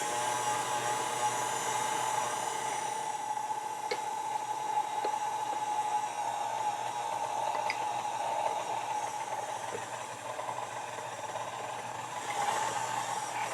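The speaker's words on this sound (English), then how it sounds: "We're going to add our paddle attachment and start combining everything on low." A stand mixer fitted with a paddle attachment runs on low while combining potato roll dough, giving a steady motor hum with a faint whine and occasional light knocks, continuous and fairly quiet, with no speech.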